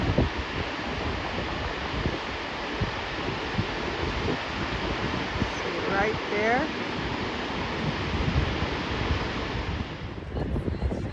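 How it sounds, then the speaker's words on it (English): Wind buffets the microphone in continuous roaring gusts beside a waterfall, blending with the rushing water. A person speaks briefly partway through. "I don't know if y'all can hear me because of the wind"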